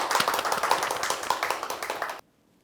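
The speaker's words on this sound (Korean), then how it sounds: "박수 부탁드리겠습니다" Audience applause welcoming a book author to a book show stage, a lively patter of many hands clapping at moderate loudness for about two seconds before cutting off abruptly into silence.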